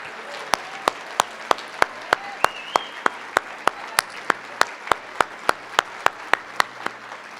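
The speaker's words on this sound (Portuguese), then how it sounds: "E para Ele uma salva de palmas." A church congregation claps in steady rhythmic unison, sharp evenly spaced claps about every third of a second over a soft room murmur, with no talk.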